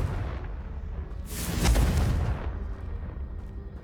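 A Confringo blasting spell bursts in Hogwarts Legacy with a loud, close explosion that swells over about a second, then fades into a rumbling tail over steady game ambience.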